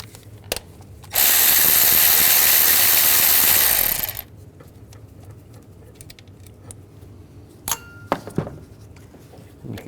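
A tool works a bolt with a 10mm socket on a 2007-11 Honda CR-V engine during valve cover gasket work: a loud, steady three-second mechanical whir, then a few sharp metallic clicks and small knocks in a quiet garage.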